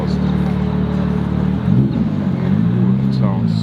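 A Lamborghini Temerario's exhaust rumbles during street driving, a loud, close, steady low drone that swells slightly midway.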